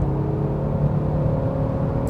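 A Genesis G70 in comfort mode while driving gives a steady, low engine hum with a continuous rumble and no noticeable surges. No one speaks over it.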